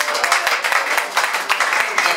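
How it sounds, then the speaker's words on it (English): A crowd at a rock and roll gig at The Liverpool pub in Liverpool gives a dense, continuous round of applause for the Buckets, a busy wash of many hands clapping close by. "I'd like to give them a big,"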